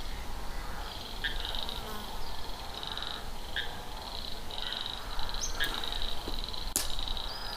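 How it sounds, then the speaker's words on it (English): A dense outdoor chorus of buzzing, trilling frog calls near a river bridge in Western Australia fills the air continuously, with occasional sharper clicks and chirps standing out. "Listen to the frogs."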